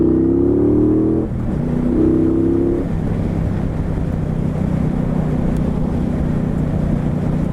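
2017 Triumph Bobber motorcycle engine droning steadily while riding, with a pitch climb and a shift near the start, then a constant loud hum mixed with rushing wind noise, no voices.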